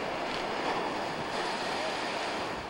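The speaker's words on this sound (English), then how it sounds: "The surf started its significant pounding again about 10 p.m." Winter storm surf pounding a seawall along the shore at night, a continuous loud roar of crashing waves mixed with wind buffeting the microphone.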